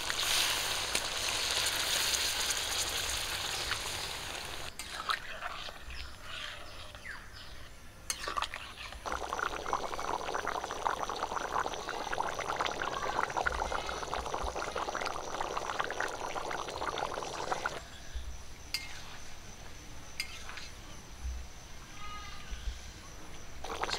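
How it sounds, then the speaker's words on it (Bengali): Water poured into a pot of chicken curry with ash gourd, the meat already fried in spices; a steady splashing pour runs for several seconds, then softer simmering and stirring noises follow close by. "রস করার জন্য জল দিয়ে দিচ্ছি।"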